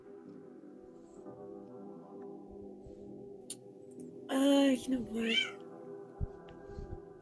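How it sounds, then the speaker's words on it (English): A cat lets out one loud, drawn-out meow close by, then a shorter follow-up, while a person talks quietly before it. "Excuse my fucking cat."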